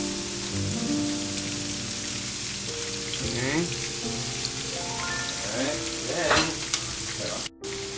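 Lime juice sizzles and reduces in a pan beside pan-fried tilapia, a close, steady bubbling sizzle with stirring scrapes and some tonal clinks throughout.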